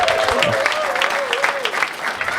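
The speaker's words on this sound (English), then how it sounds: "Let's hear it one more time for Luis Villaseñor" Steady, full applause from a comedy club crowd on a Saturday night, dense clapping with a whoop or shout riding over it for the whole stretch.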